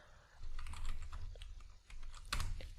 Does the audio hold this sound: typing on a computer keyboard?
yes